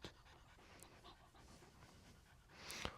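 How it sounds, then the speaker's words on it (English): An impatient dog pants quietly nearby in quick, rhythmic breaths, faint against the background, with a short sharp squeak near the end. No one speaks. "now this dog in front of me is becoming impatient"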